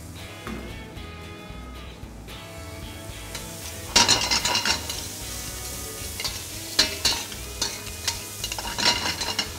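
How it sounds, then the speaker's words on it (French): Finely chopped onions sweating in a pan, a steady soft sizzle with frequent close scraping and stirring strokes of a utensil, getting busier partway through, with no speech. "je vais très rapidement faire suer les petits oignons ciselés"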